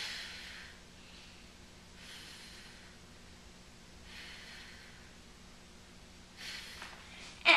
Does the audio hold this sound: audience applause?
no